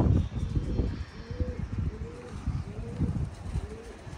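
Red pigeons give several soft, repeated coos, one every second or so, nearby over a low background of rustling and faint murmur, with no clear speech.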